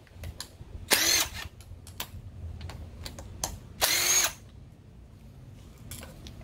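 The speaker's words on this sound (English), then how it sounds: "I'm just going to unscrew these real quick." A power tool whirs in two short, loud bursts as it unscrews 10 mm thermostat housing bolts on a Honda CBR600F4i engine during a teardown, with faint ticks and clicks of handling between the bursts.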